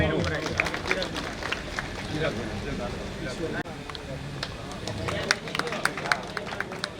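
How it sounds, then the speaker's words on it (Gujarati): Audience applause at a village community gathering: a crowd claps continuously with uneven, overlapping hand claps near and far, while a voice speaks over the clapping. "ખૂબ સરસ તાળીઓ પાડો."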